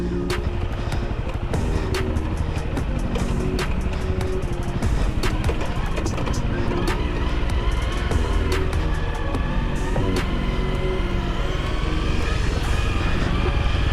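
An off-road vehicle engine revs hard and continuously on a slippery trail hill climb in Wayne National Forest, loud and close, with rapid firing pulses and sharp clicks and knocks running through it.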